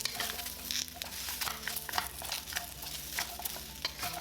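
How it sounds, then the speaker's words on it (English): Rice cakes stir-fry in a hot wok with extra light olive oil, crackling and sizzling steadily under repeated scraping and tossing strokes, close and busy with no voices. "Transfer in the rice cake and stir fry until lightly browned for about 2 minutes"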